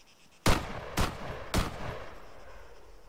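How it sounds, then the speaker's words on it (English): Three warning gunshots in the video game ArmA 3 ring out about half a second apart, each a sharp loud crack with a short echoing tail, and fade into quiet. "Go ahead and get 3 warning shots."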